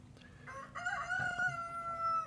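A rooster crows clearly and close by, one long rising and holding call that fills most of the short moment, with no other sounds around it.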